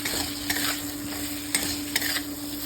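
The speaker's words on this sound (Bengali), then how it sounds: "দিয়ে দেবো ভেজানো ছোলাটা, ভালো করে নেড়ে ছেড়ে নেব।" Soaked chickpeas are stirred into a frying spice mix of turmeric, tomato and salt in a pan, a soft continuous sizzle broken by three or four scraping strokes of the spoon, with a steady background hum and no talking.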